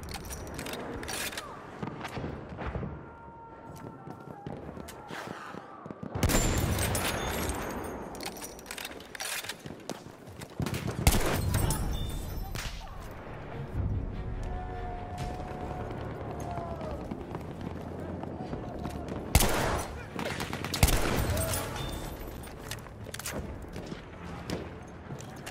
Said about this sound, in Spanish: ¡Allá hay una ametralladora del enemigo!